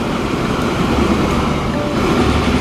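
A train rumbles past steadily in the railway building game Transport Fever 2, a continuous broadband roar with rolling wheel noise holding at a constant loud level throughout.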